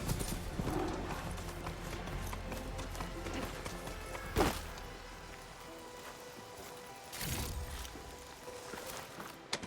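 Hooves of a ridden mount in Horizon Forbidden West clip-clop in a steady, soft gait, fairly quiet under the game's ambient background, with a couple of heavier thuds along the way.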